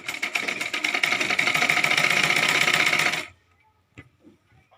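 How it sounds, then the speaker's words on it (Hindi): Sewing machine stitching lehenga fabric, a steady loud mechanical whirr running for about three seconds before stopping abruptly, followed by a few faint handling clicks. "तो मैं पहले इसकी सही तरफ सिलाई कर रही हूँ"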